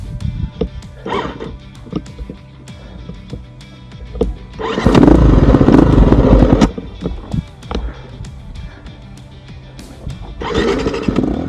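A motorcycle engine sputters and labors on a steep, rocky high-altitude mountain pass, dropping to an uneven idle and then revving back up in rough bursts, with gravel crunching and clattering close by.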